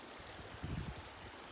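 A river runs beside a backcountry hiking trail on a multi-day wilderness backpacking route, giving a steady, soft, continuous rush of flowing water, fairly close, with no voices.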